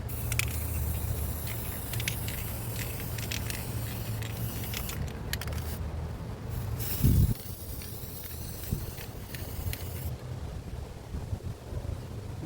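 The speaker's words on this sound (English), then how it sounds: "crafters love this spray paint." Spray paint hisses steadily from an aerosol can while upcycling outdoor step covers, a continuous close-up spray with a brief low thump near the middle and no talking.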